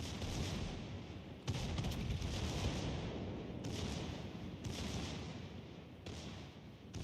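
Heavy naval gunfire from warship main batteries in World of Warships: Legends, a continuous rumbling barrage with several sharp booming salvos breaking through at intervals, loud and close.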